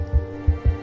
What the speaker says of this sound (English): Oh, that heartbeat sound is awful.